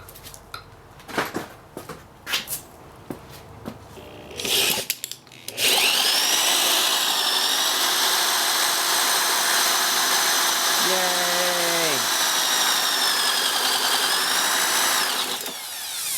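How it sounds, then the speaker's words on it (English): A few short clanks and taps, then an electric drill turning a 1962 Ducati Bronco 125 engine on the bench whirs loudly and steadily for about ten seconds, its pitch dipping briefly under load before stopping. "Then we'll just turn it with my handy dandy drill"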